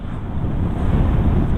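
Gusty wind buffeting the microphone outdoors on a blustery day, a constant low rumbling roar that fills the short stretch without pause, loud and close, with no voices.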